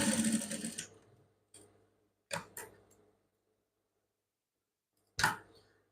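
Sewing machine stitching a trouser seam, a short close run of stitching at the start followed by a few brief whirring bursts and clicks separated by silence, with no talking.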